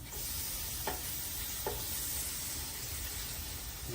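Bologna slices fry in a pan at a camp stove, giving a steady, close hiss of sizzling grease with two brief scraping knocks early on and no voices.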